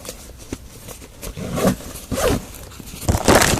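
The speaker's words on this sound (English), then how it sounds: "one more thing in this last zipper here" A zipper on a bug out bag kept in a car is pulled open in several short, rasping strokes, close up and growing louder toward the end.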